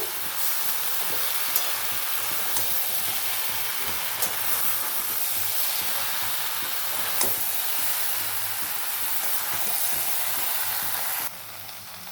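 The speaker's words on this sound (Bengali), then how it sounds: "চিংড়ি মাছগুলো দিয়ে আবারও খুব ভালো করে মিশিয়ে দেবো" Prawns and jackfruit curry with potatoes are stirred and sautéed in a pan, a continuous hissing sizzle with occasional faint spatula taps, steady and close for the whole stretch before dropping off at the end.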